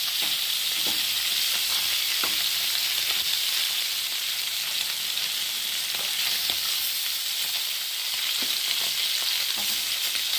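Fish frying in oil in a wide, shallow pan, giving a dense, steady hiss of sizzling with occasional faint pops and light utensil ticks, close and continuous.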